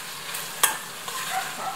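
Steady crackling sizzle of food frying in a pan, fairly quiet, with one sharp clink partway through and no voices.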